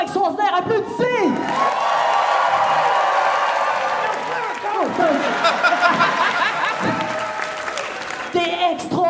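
A live theatre audience at a comedy talent show erupts in sustained applause, cheering and whoops that swell and hold for several seconds, with voices shouting through the din.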